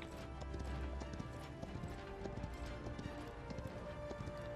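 Horse hooves gallop in a steady, fast clip-clop rhythm in the Paladins video game, moderately loud over a dense bed of game ambience and effects.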